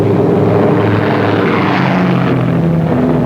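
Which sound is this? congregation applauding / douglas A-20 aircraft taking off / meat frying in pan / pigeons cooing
douglas A-20 aircraft taking off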